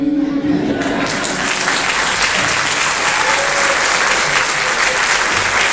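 Audience applause at a live country music show in Nashville, a dense steady wash of clapping that swells right after a short tonal note and holds loud and even throughout.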